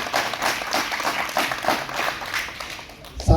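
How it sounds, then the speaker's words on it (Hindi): Audience applause welcoming a guest onto the stage at a Jammu and Kashmir Academy of Art, Culture and Languages event, steady crowd clapping throughout with no talk. "तो जोरदार तालियों से हमारे यहाँ स्वागत करेंगे।"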